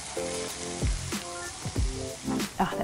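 Hot sesame oil poured over chopped spring onion and ginger hisses and crackles loudly up close. The sizzle comes in a few quick bursts that fade in between, and no voice is heard over it.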